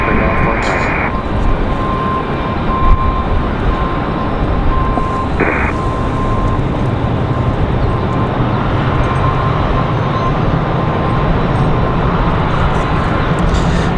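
A Southwest airliner departs from Raleigh Durham airport, a broad, loud roar of jet engines filling the scene at distance, with talk mixed in over the steady noise.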